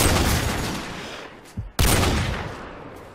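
Dense, loud gunfire in a zombie shooter video game, a sustained roaring volley that briefly drops out mid-clip before resuming at full strength.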